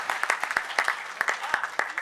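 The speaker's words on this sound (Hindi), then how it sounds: "जोरदार तालियां, एक बार महोत्सव दे तालियों का।" Audience applause at a Hindi poetry recital, a brisk run of sharp individual claps in a quick irregular rhythm, with a voice over it.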